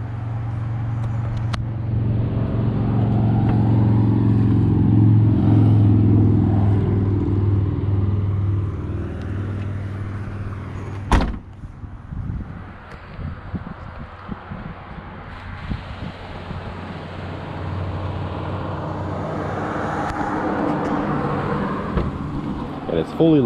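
A 2004 Mazda 6 V6 engine with factory dual exhaust idles with a deep, steady rumble, close and loud at first, easing off midway as rustling and wind noise take over.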